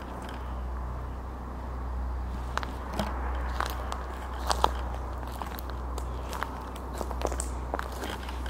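Footsteps crossing grass at night outside an abandoned mansion, heard as soft, irregular crunching steps over a steady low hum, fairly faint and spread across several seconds.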